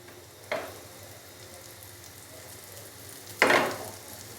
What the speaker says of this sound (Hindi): यहाँ पर मैंने बड़ी एहतियात के साथ जो शामी कबाब हैं वो फ्राई होने के लिए डाल दिए हैं